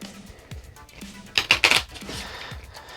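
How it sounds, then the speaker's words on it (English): A small deck of Kingswood microgame cards being shuffled on a table, a quick burst of riffling and flicking in the middle, close and fairly loud, with quieter card handling before and after. "you're going to shuffle up your Chapter 2 cards."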